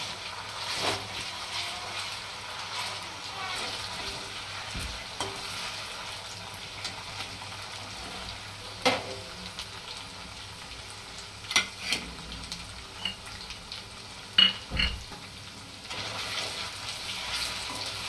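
Onion with ginger-garlic paste frying in oil for a Marathi-style surmai (kingfish) curry, a soft steady sizzle with occasional stirring clatter and scrapes, fairly quiet and close.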